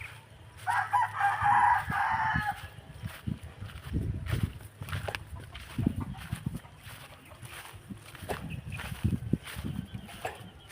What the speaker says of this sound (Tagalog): Mga manok masabong dyan.